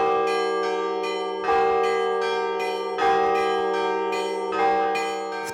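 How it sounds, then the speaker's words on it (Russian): Church bells in Birsky District, Bashkortostan, Russia ring the call to service in a steady, repeating pattern, with a deep sustained tone under brighter struck notes. Heavier strokes land about every one and a half seconds, and the ringing is loud, resonant and alone. "Прихожане с окрестных домов услышали колокольный звон."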